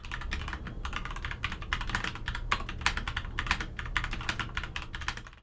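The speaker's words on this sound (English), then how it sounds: "the clicky sound I opted for adds to that mechanical feel" Rapid typing on a Logitech MX Mechanical keyboard with clicky switches, a close, crisp stream of sharp key clicks in uneven bursts, with no talking.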